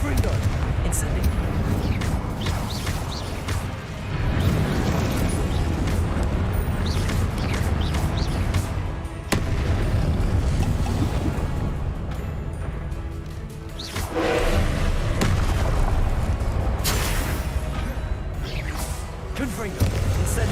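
Confringo and Incendio spell blasts in Hogwarts Legacy form a loud, dense barrage of booming explosions and fiery bursts. The blasts continue almost without pause over busy game noise, with a voice talking over them.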